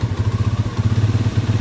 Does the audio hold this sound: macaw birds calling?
no